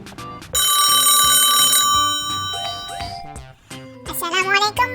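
A telephone bell rings in a sustained bright trill, then tones and beeps follow as the call connects, with a brief voice at the end.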